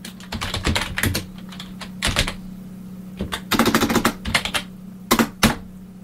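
Bursts of rapid keyboard typing, clicking keys in irregular clusters with short pauses between, close and clear over a faint steady hum.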